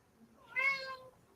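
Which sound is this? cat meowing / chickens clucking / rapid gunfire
cat meowing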